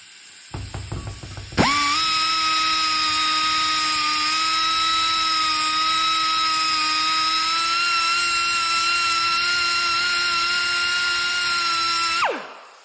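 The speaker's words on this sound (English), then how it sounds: "I just got a little flap wheel and the die grinder" A die grinder with a small flap wheel cleans out a cap on a Mack truck: a few clicks, then a loud, steady, high-pitched whine runs unbroken for about ten seconds and winds down at the end.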